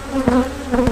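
Honey bees buzzing at an open hive, a steady close hum with a couple of louder passes of individual bees flying near, no voices.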